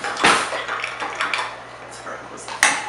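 A cocktail being stirred after a generous scoop of syrup goes in, with a loud clink of spoon or glass at the start, softer glassy taps and swirls through the middle, and a sharp clink near the end.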